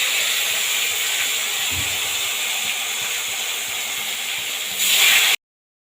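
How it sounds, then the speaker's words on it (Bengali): A steady, loud hiss of food frying in hot oil, with a soft thump early on and a brief surge of sizzle just before it cuts off. "তেলটা ভালোভাবে গরম হয়ে গেছে এবার পনিরগুলো দিয়ে দেবো"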